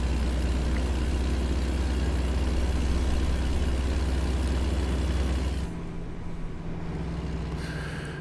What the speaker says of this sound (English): why is my engine so loud?